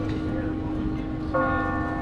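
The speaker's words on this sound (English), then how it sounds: "Bell tower here is really cool. Can you hear it?" A church bell in a small-town bell tower by an old downtown square rings once, a clear tonal strike that rises partway through over outdoor background noise.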